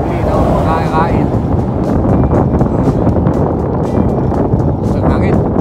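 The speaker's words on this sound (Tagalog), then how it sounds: "Isang hangin." Strong wind roaring during a boat ride on the water, loud and continuous rumble with gusty broadband noise throughout, close to the microphone, with faint voices mixed in.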